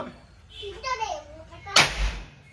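A voice is heard, then a single sharp firecracker burst cracks loudly and close, trailing into a brief noisy decay.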